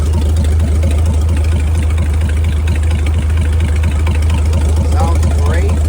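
A Chris-Craft Model W marine engine, freshly overhauled and warmed up, runs steadily through a test fire with a loud, continuous low idle and rapid rhythmic firing pulses, with faint speech near the end.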